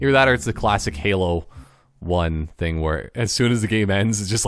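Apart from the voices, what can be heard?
No everyday noise stands out behind the speech.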